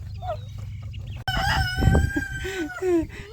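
Backyard chickens in a coop crow and cluck loudly up close, with a rooster-style crow rising over overlapping clucks and squawks, heard without talk.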